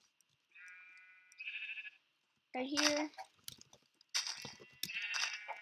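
Sheep in a video game farm pen bleat several times in short separate cries, each clear and near, with a brief spoken remark in between.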